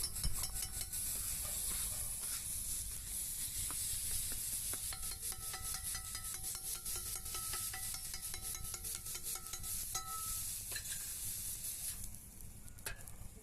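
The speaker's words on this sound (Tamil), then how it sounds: "ஓகே நல்லா தக்காளி வந்து நல்லா வதங்கிட்டுருக்கு" Chopped tomatoes sauté in a pan for tomato kalakki, a soft continuous sizzle with intermittent scraping and stirring, close and quiet, no talking.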